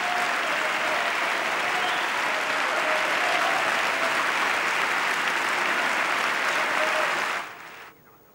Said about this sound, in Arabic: ما أثار موجة تصفيق من الحاضرين في قاعة مجلس النواب